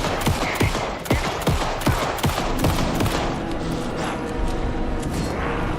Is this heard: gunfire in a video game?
yes